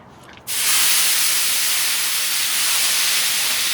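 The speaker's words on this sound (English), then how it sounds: "while the griddle's still warm, I'm going to take some water" Water poured onto a hot CharBroil Performance Series gas griddle, model 463711223, bursts into a loud, steady steam hiss. The hiss starts abruptly after a brief quiet moment and stays close and continuous to the end.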